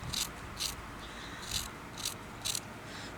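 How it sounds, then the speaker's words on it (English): Scissors snipping off a side piece of wet wool fabric, a series of about six short, crisp close-up cuts at an uneven rhythm over quiet background. "I'm going to cut this side bit here off."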